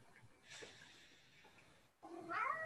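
A cat gives a drawn-out, strained meow followed by a brighter, higher call at the end, faint and somewhat distant against a quiet room.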